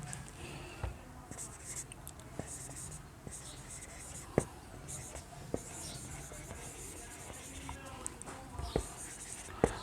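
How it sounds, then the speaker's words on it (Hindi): A pen scratches across paper in quick, soft strokes, with sharp little taps and scrapes scattered throughout, close and fairly quiet, and faint low murmuring in the background. "जैसे यहाँ पर मैं लिखता हूँ"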